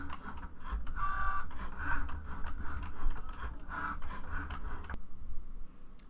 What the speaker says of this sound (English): our Cricut is all done cutting out our card piece